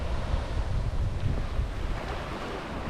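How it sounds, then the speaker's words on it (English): Waves at Blue Beach on Kos roll in with a steady low rush, mixed with strong wind buffeting the microphone, continuous and close. "But this is an awesome beach"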